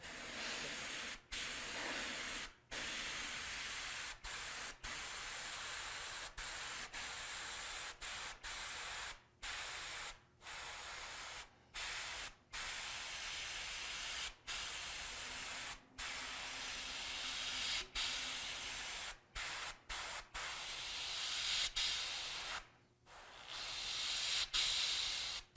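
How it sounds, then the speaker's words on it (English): Gold Createx candy paint sprays from an airbrush in repeated hissing bursts separated by short silent gaps, steady and close, with no talking. "when I spray the gold"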